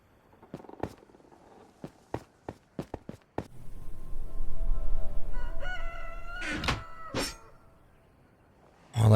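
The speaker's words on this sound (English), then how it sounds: "that's the sound of the morning rooster" Morning rooster crow in a video game: a series of sharp knocks and thumps, then a low rumble and a loud, drawn-out crow near the end.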